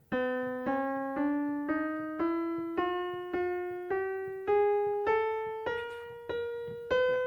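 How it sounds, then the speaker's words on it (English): Notes on an acoustic decaphonic piano climb one at a time in a steady ascending scale, about thirteen evenly spaced tones, each ringing clearly with a somewhat unusual, bright timbre. "now we can just play the scale."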